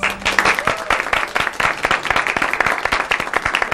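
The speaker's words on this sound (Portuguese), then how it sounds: "Uma salva de palmas para vocês." A studio audience at a Brazilian television program breaks into applause, dense steady clapping from many hands that fills the room throughout, with a voice briefly audible at the start.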